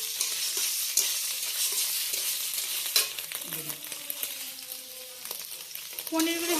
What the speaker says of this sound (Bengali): পনিরগুলো এবার নাড়াচাড়া করে নেবো একটু।